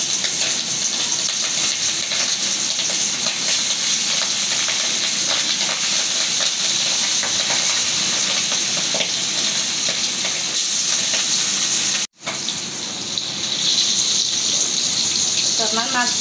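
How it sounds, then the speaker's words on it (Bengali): Hilsa fish, rubbed with salt, turmeric and chili, fries in hot oil with a loud, continuous close-up sizzle and hiss that briefly cuts out near the end, then resumes. "আমার তেলটা গরম হয়ে গেছে, আমি একটু মাছটা ভাজবো"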